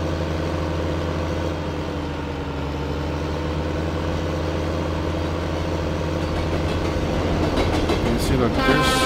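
A train rolls past in a farming video game, a steady rumbling drone with a faint rhythmic clatter that grows slightly louder toward the end, heard continuously at moderate volume.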